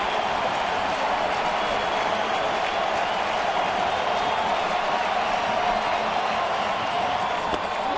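Baseball stadium crowd at an ALDS playoff game cheering steadily and loudly, a dense continuous roar with no pauses as a full-count at-bat builds.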